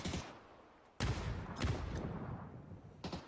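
Video game gunfire in a competitive squad battle, bursts of shots and loud booming blasts close by, several sharp reports at irregular intervals over a rumbling background.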